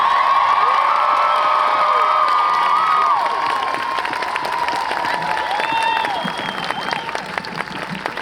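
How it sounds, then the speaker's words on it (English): Large crowd at a Gulf Coast march for Palestine applauding and cheering, sustained loud clapping mixed with whoops and high shouts throughout, tapering slightly toward the end. "One more loud round of applause."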